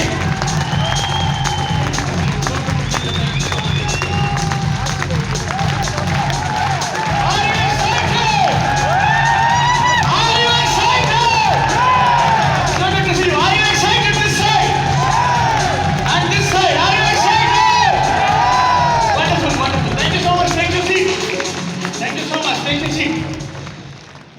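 An audience claps, cheers and whoops to welcome Deepak Bajaj onto a chat-show stage, a lively continuous crowd roar with shouts rising and falling over about twenty seconds, and voices heard amid the noise.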